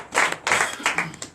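Church congregation clapping in acclamation, a short burst of many hands applauding in quick uneven rhythm, moderately loud and roomy.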